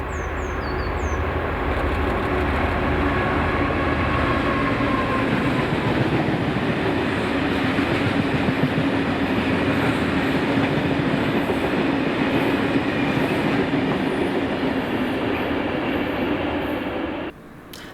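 A freight train of loaded aviation fuel tankers from Grangemouth to Prestwick, hauled by locomotive 7804, rolls past at Hillington West in Scotland with a loud, continuous rumble and clickety-clack of wheels that cuts off abruptly near the end.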